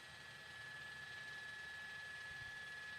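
A sheriff's helicopter hovers overhead during a police chase, its steady rotor and engine drone forming a constant, distant hum with no break.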